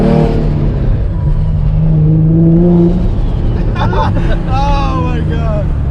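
A single-turbo Nissan 350Z with an HR engine drones loudly and steadily while driving, its tone rising and falling as it revs, with people talking over it throughout.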